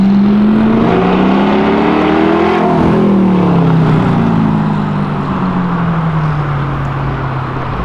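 A Honda Civic Si G10 accelerating hard along a city avenue, its engine note climbing through rising harmonics then sweeping down as it passes, loud and close with steady traffic noise beneath.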